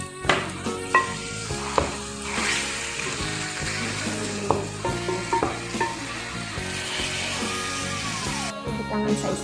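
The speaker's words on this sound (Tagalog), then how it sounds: "init na ang oil. So ato na ibutang ang sibuyas at ang ahos" Onion and garlic dropped into hot oil for Arabic red spaghetti: a loud, continuous sizzle with frequent spoon-against-pan clinks and stirring knocks throughout.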